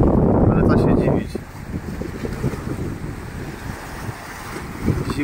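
Gusty wind blowing along the shore of Lake Balaton on a cold, grey morning, a loud rushing roar that buffets the microphone at first, then eases into a steady, lower blustery wash that carries on throughout.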